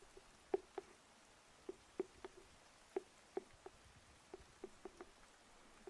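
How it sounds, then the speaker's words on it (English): Rain from a passing shower on a botanical walk patters against an overhang: soft, sparse drops tapping at irregular intervals over a quiet, hushed background. "the sound of the rain against the overhang"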